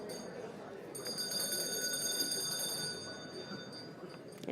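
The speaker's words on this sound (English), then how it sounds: "Use the bell." A bell rung to call a scientific society meeting session to order rings out as a clear, sustained metallic tone lasting a couple of seconds over low room murmur.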